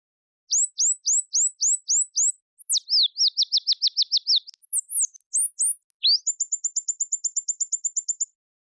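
Synthesized complex bird song modeled on real birds, clean whistled chirps in a rising series, then a fast trill, a few swooping notes and a rapid run of short even tweets, alone and close.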